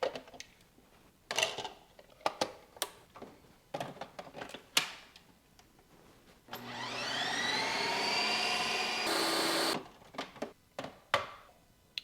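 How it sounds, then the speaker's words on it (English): A Ninja Creami ice cream maker spins a light ice cream batch, a loud steady whirring grind for a few seconds, preceded by clicks and knocks as it is loaded and switched on. "We're gonna put this in the Creami, spin it on light ice cream, and then add our mix-ins."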